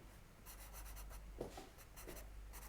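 A pastel pencil scratches across paper in quick, close strokes, a dry rhythmic scribbling with short bursts of scraping, quiet and steady with no talk.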